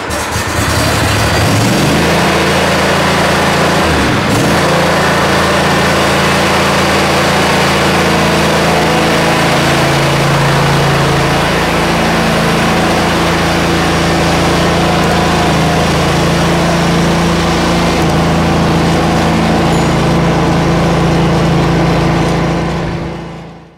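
A Bad Boy Maverick riding mower engine runs loud and steady at close range, with a brief dip near the start and then a constant drone, no talking.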